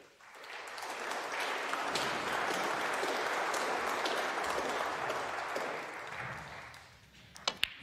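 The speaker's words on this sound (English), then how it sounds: "That applause is for Ali Carter" Applause from a snooker audience for Ali Carter at the UK Championship, a steady, fairly distant wash of clapping that swells, holds for several seconds and then fades, with a few sharp taps at the end.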